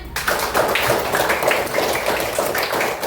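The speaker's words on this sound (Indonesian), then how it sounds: "Tepuk tangan untuk semuanya." Students in a classroom clap for groups that presented their discussion results, a lively uneven patter of hand claps, close and steady, starting abruptly and continuing throughout.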